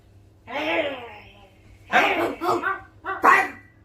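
A group of voices mimics a dog's bark, giving a drawn-out growling yelp and then several short barking bursts, close and loud.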